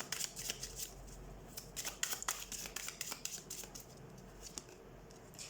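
Tarot cards are shuffled and drawn by hand, giving faint, close, crisp riffling snaps and soft slides in uneven bursts against a quiet background with no talking.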